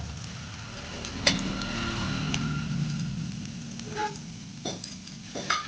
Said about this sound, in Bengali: এটাকে আমি তেলের মধ্যে দিয়ে ভেজে নিচ্ছি